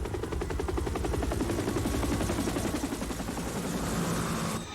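A helicopter in a TV commercial chops loudly and rhythmically, rotor thumps pulsing steadily and close, then fading slightly at the end.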